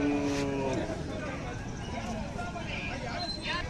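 Cattle at a Khillar livestock market in Sangola, with one cow lowing through busy crowd babble and animal noise; people talk throughout.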